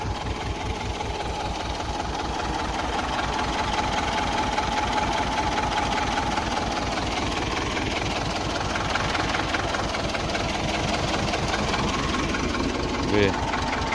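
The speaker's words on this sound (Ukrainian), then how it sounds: "Бачите, самим трактором." A tractor engine runs in a potato field during spraying against late blight, a steady loud low rumble with regular rhythmic pulsing throughout the whole stretch.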